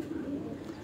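Pigeons cooing on a rooftop in Multan make a soft, low, steady coo, faint and brief, with no talk over it.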